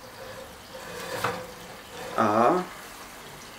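Water is poured into a baking dish of cabbage rolls and peppers, a brief gurgling pour lasting under a second, heard faintly near a voice.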